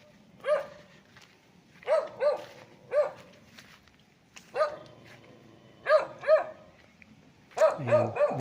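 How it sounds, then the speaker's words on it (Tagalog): A dog on a rural farm lot barks in short separate bursts, single and double yips spaced a second or so apart, fairly close and clear against a quiet outdoor background. "May aso."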